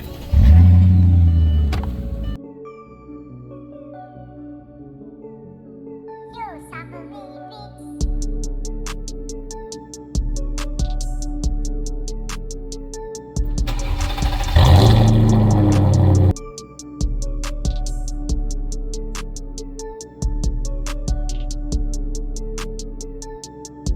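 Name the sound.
Mercedes CL car being driven and moved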